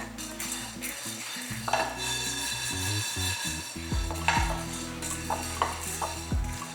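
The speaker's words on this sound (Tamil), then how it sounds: "அதை வந்து நல்லா வறுத்துக்குவோம்" White urad dal dry-roasting in a pan, stirred with a steady run of scraping and rattling clatters, close and moderately loud over a continuous tonal musical background.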